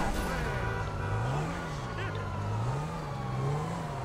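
In GTA 5 Online, a car engine drones and revs continuously while driving, its pitch rising and falling in waves. Talk can be heard over it.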